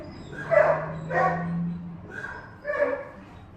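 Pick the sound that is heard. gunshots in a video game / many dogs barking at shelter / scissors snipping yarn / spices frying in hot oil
many dogs barking at shelter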